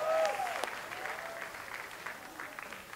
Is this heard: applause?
yes